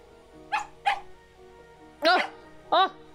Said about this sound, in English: The dog reminded us of his existence with a loud bark.